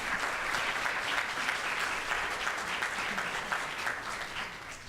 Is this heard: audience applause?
yes